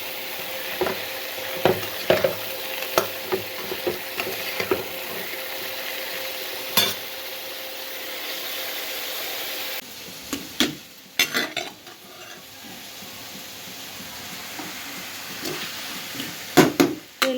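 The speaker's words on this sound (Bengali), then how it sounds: "পটলটা ভেজে নিই ভালো করে" Pointed gourd (potol) frying in oil in a pan, a steady soft sizzle with repeated stirring scrapes and clinks of a utensil against the pan, close by, no talk.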